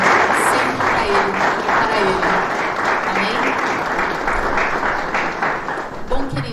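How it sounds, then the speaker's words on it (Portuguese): A workshop audience at a religious conference claps loudly and steadily for several seconds, the dense applause staying fairly even, with voices mixed in beneath. "uma salva de palmas para a glória do Senhor"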